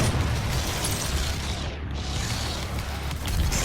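Explosions from shooting in the video game DOOM, a dense continuous roar of blasts and rumble that dips briefly midway before swelling again.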